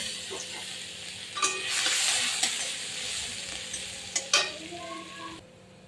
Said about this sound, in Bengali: দিয়ে দেবো রসুন ফোড়ন